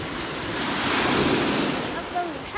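Sea waves breaking in front of a house by the shore, a steady broadband wash of surf that swells toward the middle and eases off, heard up close together with wind noise buffeting the microphone.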